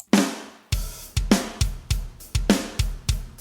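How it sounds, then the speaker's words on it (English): Steven Slate virtual drums rendered to audio for a metal cover play a steady groove: punchy kick and snare hits landing about every third of a second, crisp cymbals ringing above, loud and close with no voices. "What you're hearing is Steven Slate drums."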